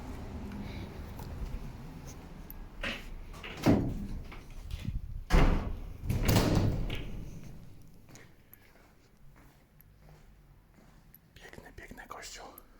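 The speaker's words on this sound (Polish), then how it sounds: "z lewej strony drzwi są otwarte, to pewnie zamknięte są." A church door swings open with a few loud knocking thuds and scrapes over several seconds, set against soft whispered voices in a quiet space.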